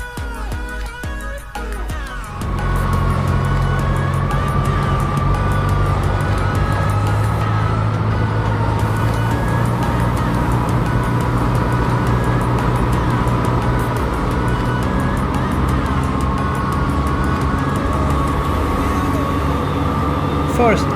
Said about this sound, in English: First I accelerate up to the right RPM I want to be at.